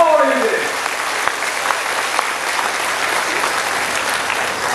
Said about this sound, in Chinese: 拜托大家用上热的掌声，把台湾市长掌声给鼓掌一下，给鼓励一下。